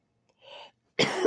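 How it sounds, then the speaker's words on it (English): A single short, close cough after a soft breathy sound, abrupt and fairly loud, with no talking. "I've had a cough lately and I don't know what it is."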